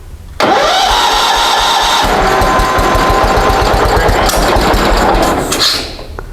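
A garden tractor engine, left sitting for five years, cranks and catches, then runs loudly and steadily at close range for several seconds before easing down.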